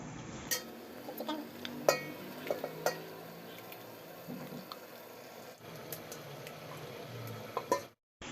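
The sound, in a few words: chicken added to frying masala in pan, stirring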